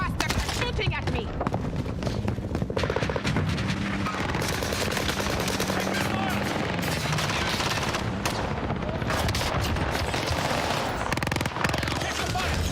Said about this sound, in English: Bastard shooting at me.